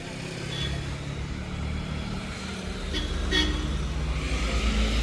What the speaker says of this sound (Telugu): ఇప్పుడు డే టైంలో అంతా ఈ ట్రాఫిక్ జాము వెహికల్సే ఉంటుంది